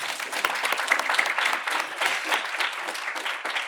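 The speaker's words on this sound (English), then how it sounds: "Let's give Group 1 a round of applause" A crowd of students, parents and guests applauds Group 1 before their final presentations, a lively, close round of many clapping hands that continues steadily with slight swells.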